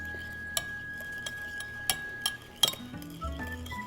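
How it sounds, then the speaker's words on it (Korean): Seasoning sauce mixed in a bowl for a chilled Korean cold dish, a third teaspoon of salt stirred in, giving scattered light clinks and taps of a utensil against the bowl over a quiet kitchen background. "이거부터 일단 섞어주세요."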